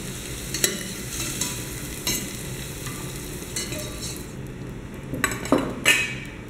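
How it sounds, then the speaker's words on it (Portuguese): Chorizo browning in a pan, a steady sizzle with clinks and scrapes of a utensil against the metal as it is stirred, loudest toward the end, with no voices. "E vamos dourar o chouriço ou salame espanhol"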